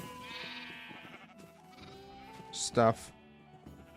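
A Minecraft sheep lets out a short, loud bleat over soft game background sounds, with someone talking quietly before and after.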